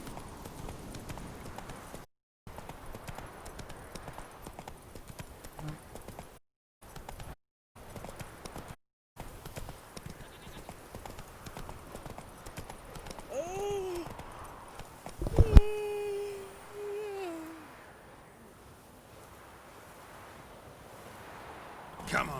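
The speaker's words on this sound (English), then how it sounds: "Where's my horse?" Horse hooves clip-clopping in The Witcher, a steady trotting rhythm under wind and ambient outdoor sound, with a sharper burst of game effects near the end.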